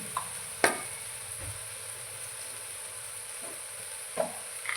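Homemade spice masala and a little turmeric hit hot tempering oil for a spinach dish, giving a steady soft sizzle with a few sharp clinks of a spoon against the pan.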